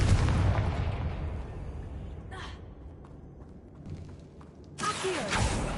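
A Confringo blasting spell explodes in the Hogwarts Legacy video game with a loud, booming burst at the start that rumbles and fades. A fainter whoosh follows, then a second sharp burst near the end.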